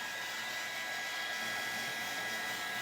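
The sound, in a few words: hair dryer blowing on a craft piece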